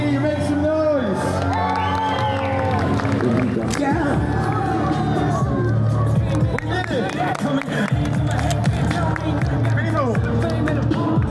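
Concert crowd cheering, whooping and shouting in a dense, continuous roar that stays loud throughout, with no single voice standing out.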